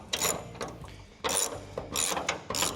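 A ratchet wrench loosens the bonnet bolts on a Ford Fairmont in a garage, giving three loud bursts of fast clicking separated by short pauses, close to the microphone.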